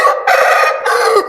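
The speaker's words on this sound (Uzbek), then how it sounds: "Xo'rozni yaqinroq oling," A Dakan rooster crows loudly and close by, two drawn-out calls in quick succession with no other sound.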